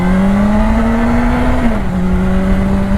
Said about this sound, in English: I'm hoping the microphone in the helmet is picking up the sound from this engine.